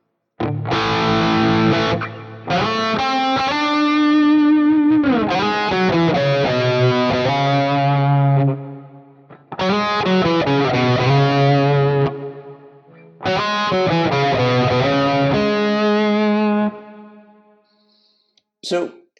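Electric guitar played through a Quad Cortex doubler effect, distorted and thickened, in three loud strummed and picked phrases separated by short silences, with no talk.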